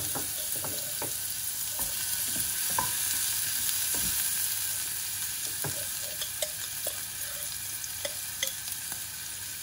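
Onion sizzles steadily in hot olive oil in a pan, with scattered clicks and scrapes of a utensil stirring through it, a continuous close frying hiss with no voices.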